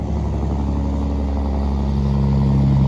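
A Volvo 320 truck engine roars steadily up close, a deep continuous drone with a low throbbing rumble that holds at the same level throughout.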